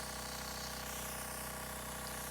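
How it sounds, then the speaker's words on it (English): An airbrush sprays pigment onto nails decorated in a Harley Quinn design, giving a steady close hiss with a faint compressor hum underneath, unbroken for the whole short stretch. "Spray out the rest of that pigment."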